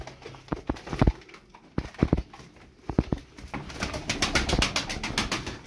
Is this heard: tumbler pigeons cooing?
yes